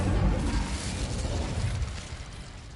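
Incendio fire spell cast in Hogwarts Legacy, a short, fairly soft burst of whooshing, rumbling flame that fades gradually over a couple of seconds.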